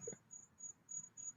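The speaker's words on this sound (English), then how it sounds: "Can you hear the crickets now?" Crickets chirp in a steady rhythm, about five evenly spaced, faint pulsing trills in a quiet background.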